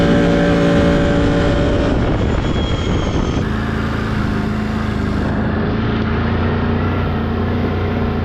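A Can-Am off-road vehicle's engine revs hard and loud up close with its reverse override engaged, the pitch shifting as the throttle rises and falls in one continuous run.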